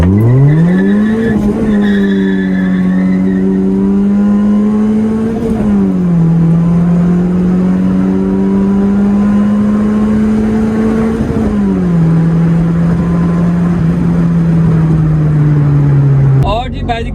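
Honda Civic 2022 RS Turbo in a street drag race, engine droning loud and steady with gear shifts breaking the pitch every few seconds, held close throughout.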